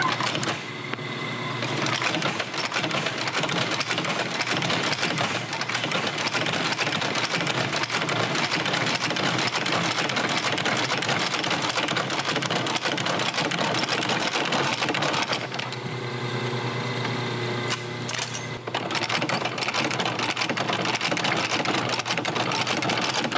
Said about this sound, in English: For this, I trust my old Landis sewing machine, pushing 100 years old now, but these old harness stitchers keep on going